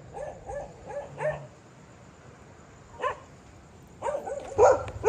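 Dogs bark near a beach resort, a rapid burst of yaps first, then a lone bark and another cluster of loud, close barks and yips toward the end, with quiet gaps between.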